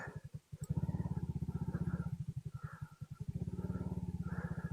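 A 2022 Honda Grom motorcycle idles and rides, a close, throbbing single-cylinder engine with rapid regular pulses that rise and fall in pitch as the throttle changes, with wind noise.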